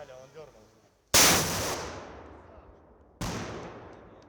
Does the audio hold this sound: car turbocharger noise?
no